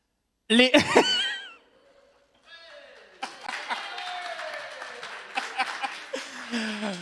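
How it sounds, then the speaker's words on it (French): A church congregation at a Sunday Christmas service breaks into applause mixed with laughter and cheering, building after a brief quiet gap and continuing in uneven bursts over a lively room. "C'est bien, vous applaudissez pour la soirée des femmes"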